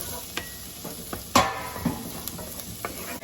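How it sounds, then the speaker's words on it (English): Onions sautéing in a pot with a sprig of fresh thyme for a keto cream of mushroom soup, a soft steady sizzle with occasional stirring scrapes and one sharper clink, close by with no talking. "we're just going to cook this until the onions get nice and translucent"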